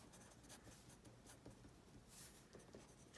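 Pen or pencil scratching across paper while someone writes out condensed study notes by hand, a steady close-up stream of soft strokes with brief pauses and no talking.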